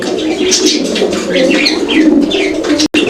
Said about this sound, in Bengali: দেখেন ডাক দেখছেন একদম ভরপুর ডাক